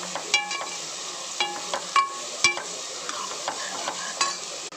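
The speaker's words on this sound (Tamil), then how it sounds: "இது நல்லா வதக்கிடலாம்" Large onions, small onions and whole garlic cloves sauté in a pan for a drumstick poriyal kuzhambu, a faint sizzle under repeated metallic clinks and scrapes of a spoon stirring at an uneven pace.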